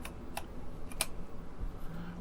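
A few sparse, crisp keystrokes on the keyboard of an SWTPC CT-1024 computer terminal, heard close over a quiet, steady background hum.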